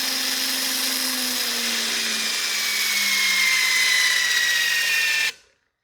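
A HYTORC torque gun tightens a centerlock wheel on a Porsche, a loud, steady high-pitched whine that holds for about five seconds and then cuts off abruptly.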